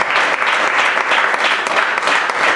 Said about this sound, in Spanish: Démosle un buen aplauso al Señor por eso.